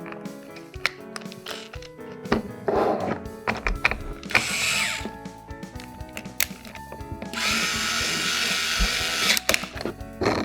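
A toy power drill with a star bit works a screw loose in a short whirring burst, then a longer one, amid plastic clicks, taps and rattles of toy parts handled nearby.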